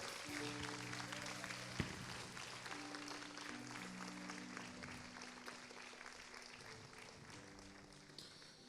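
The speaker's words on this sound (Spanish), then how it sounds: "Dale un fuerte aplauso al Señor." A church congregation claps steadily throughout, the dense applause sitting under sustained organ or keyboard chords, fairly faint and distant.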